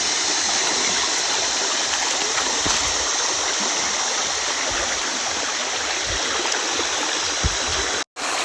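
A rural creek rushes steadily and close, a broad, even wash of flowing water that holds its level throughout, with a brief dropout near the end.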